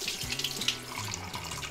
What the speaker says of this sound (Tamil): தோரம் பருப்பு, பருப்பு நான் கழுவி எடுத்துடுறேன்